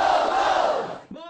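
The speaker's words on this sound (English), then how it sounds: "Tzu Chi volunteer Liu Jiyu leads Tacloban residents in a cheer" A crowd of disaster survivors, Tacloban residents at a Cash for Work site, lets out a loud unified cheer that holds strongly, then fades out with a brief second shout rising at the very end.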